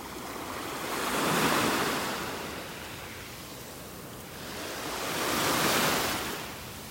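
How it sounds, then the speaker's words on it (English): Ocean waves wash onto a beach in North Naples, Florida, in two broad swells that rise, break and recede, with steady surf hiss throughout and no voices. "The waves are already pulling it back into the water."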